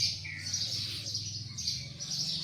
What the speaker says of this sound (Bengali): দেখতে পাচ্ছেন আমাদের এলাকায় চড়ুই পাখি, প্রচুর পরিমাণে চড়ুই পাখি